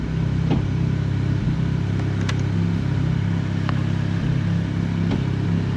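A WRC rally car engine idling steadily after repair, a loud continuous low rumble with occasional small clicks and clatter, no clear revving.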